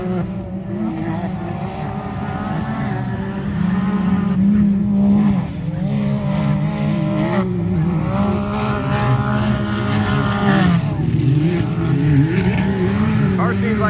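Short course race car engine on a dirt track, revving hard and fluctuating through throttle changes and jumps over fourteen seconds, fairly distant with a strained, wavering pitch.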